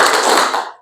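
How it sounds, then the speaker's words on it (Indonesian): A short burst of hand clapping from a group during a stretching break in an Indonesian class session, a dense, brisk patter that fades out within a second, with no talking over it. "tepuk 1, tepuk 2, tepuk 3"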